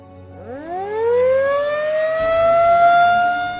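An air-raid siren in Ukraine winds up from a low growl to a high, steady wail and holds there, loud and continuous.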